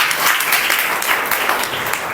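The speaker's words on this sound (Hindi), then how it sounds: "ताली बजा के प्रभु का धन्यवाद।" Congregation at a Hindi-language Christian church service clapping together in thanks, a dense, steady wash of many hands at close range that fills the whole moment without pause.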